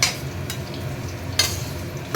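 Onions sizzle in hot oil over a lowered gas flame for ghugni, a steady crackle broken by a few sharp stirring scrapes close by.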